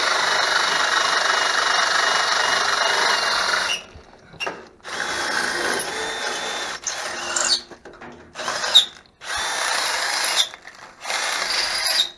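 A power drill bores holes for tail light wiring on a homemade trailer, its loud whine running steadily and then cutting out and restarting in several shorter bursts with brief pauses between.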